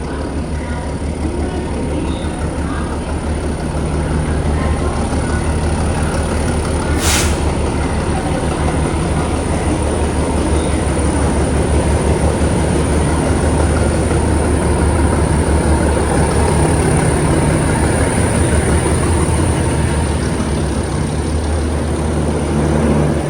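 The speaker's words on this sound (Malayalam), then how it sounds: "ഇവിടത്തേക്ക് ഇതാ കൊണാർക്ക് എക്സ്പ്രസ് ഷണ്ടിങ് ചെയ്ത് വരികയാണ്." Konark Express train shunting slowly into platform 17 at a station during monsoon, a steady loud rumble and hum running throughout with no pauses, one brief sharp high click partway through.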